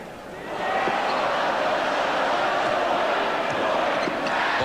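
Loud, steady roar of the arena crowd at a 1991 Duke Blue Devils versus Clemson Tigers college basketball game, cheering continuously throughout with a faint commentator voice mixed underneath.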